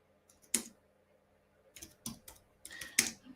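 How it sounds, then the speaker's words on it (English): Quiet keystrokes on a computer keyboard come in short bursts with pauses between them, close and soft, with no talking over them. "I'm typing in the chat here."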